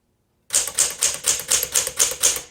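Keys on a 1964 Smith Corona Sterling manual typewriter strike in a steady series of about eight crisp, loud, close clacks after a moment of silence, each with a short metallic ring.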